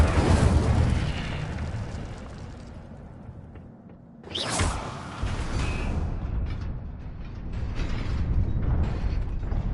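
An Incendio fire spell cast in Hogwarts Legacy, a sudden bright whooshing burst midway after a quieter lull, followed by crackling and mechanical rumbling game ambience.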